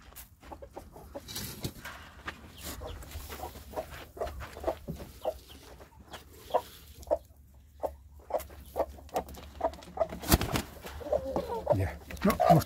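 A protective hen with her newly hatched chicks clucks repeatedly and close by, in short irregular bursts that grow busier toward the end.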